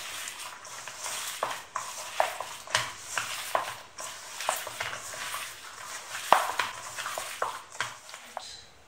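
Wet, squelching handling of a kefta mixture of minced meat, spices, salt and ginger as it is kneaded by hand, with irregular soft slaps and squishes close up, no talking.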